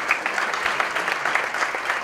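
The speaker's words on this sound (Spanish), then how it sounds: "Fuerte el aplauso para la chica amiga." Audience applause at a live-statue contest show and awards ceremony, a steady wash of many hands clapping from a crowd at moderate distance, continuous throughout with no talk over it.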